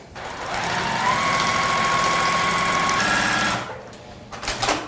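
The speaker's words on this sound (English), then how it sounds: "So Laurel, this is your very first time machine quilting" A sewing machine quilts fabric on a tabletop frame, running in a steady, loud, continuous whir for about three and a half seconds before stopping, followed by faint handling noises.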